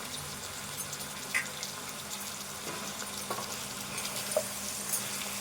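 Chopped tomato goes into a simmering brinjal chicken curry and gets stirred, producing a soft, continuous sizzle with a few light scrapes and clinks of the spoon against the pan.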